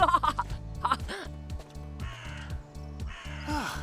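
A cartoon crow caws harshly several times over a bouncy musical score, loud and close, with a brief burst of snickering laughter mixed in.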